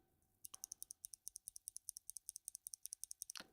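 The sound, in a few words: typing on a keyboard with clicky blue switches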